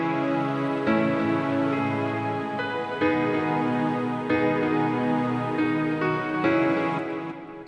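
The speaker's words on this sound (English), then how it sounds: "Excelsior pad, or exactly, Excelsior Arpeggio B pad in Nexus." A sustained Excelsior Arpeggio B synth pad from Nexus plays a melody of held, bright layered chords that change every second or so, loud and alone with no voices.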